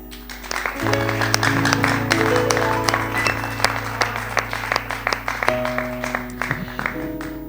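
A church congregation applauding and cheering a new convert, steady clapping from many hands over sustained organ or keyboard chords, with the clapping continuing throughout.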